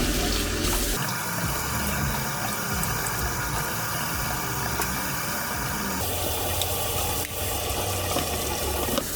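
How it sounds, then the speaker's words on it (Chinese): Tap water runs in a steady, loud, continuous rush while a small fish tank filter is washed, with a brief pause and shifts in the flow as the filter moves under the stream. "然后洗这个过滤器。"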